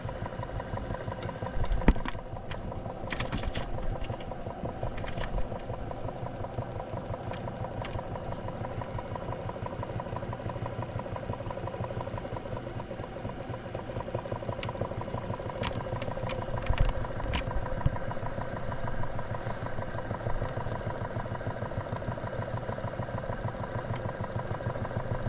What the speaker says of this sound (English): Very quiet running engine. Very smooth.